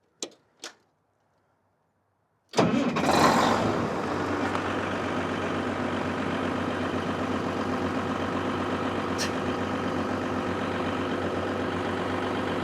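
An abandoned Caterpillar SS250 soil stabilizer's Caterpillar 3406 diesel engine, unprimed, cranks and fires after two short clicks, roaring up loudly then settling into a steady, close, rumbling idle that continues alone.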